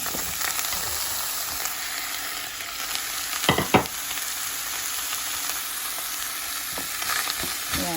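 Spinach leaves frying in a hot pan, a steady crackling sizzle with a couple of scraping stirs of a utensil against the pan partway through.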